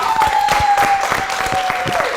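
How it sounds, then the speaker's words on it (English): Studio audience at a football fan debate show claps for itself, a modest round of applause with distinct hand claps, accompanied by a thin steady tone and some voices. "I want you guys to give a massive round of applause to yourself,"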